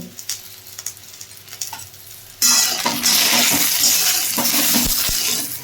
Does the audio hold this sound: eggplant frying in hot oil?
yes